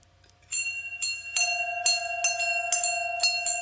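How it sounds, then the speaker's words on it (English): A hand bell is rung repeatedly in close succession, each strike a bright, ringing clang whose tone lingers and overlaps the next, loud and near against a faint low hum. "I ought to ring that bell."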